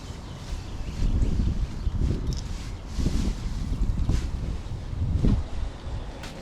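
Gusty wind blows outdoors across a garden of raised beds, rising and falling in rough rushing waves with buffeting against the microphone.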